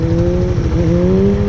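A Kawasaki Z125 motorcycle engine revs close up in second gear, a loud, steady buzzing drone whose pitch rises slightly through the short burst.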